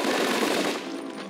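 Rapid automatic gunfire in a shooting video game, a dense continuous rattle of shots lasting about a second, loud and close with no talk over it.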